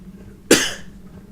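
A single sharp cough from a person, close and loud, standing alone against quiet background noise.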